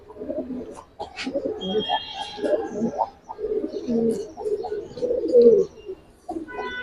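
A male Giribaz pigeon of army bloodline coos in repeated close, soft bursts inside a loft, with a few faint chirps mixed in between.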